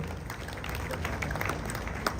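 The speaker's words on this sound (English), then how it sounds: "Shall we do a big round of applause for him?" Audience applause for a guest honoured at a formal event in Ghana, a steady dense wash of clapping heard fairly close and continuous throughout, with faint crowd murmur beneath.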